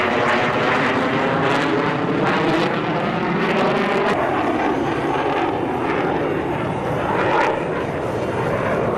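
A military jet lands on an asphalt runway at an Elmendorf air show in Alaska with its speed brake out, its engines giving a loud, steady, close roar that swells and wavers over several seconds without talk.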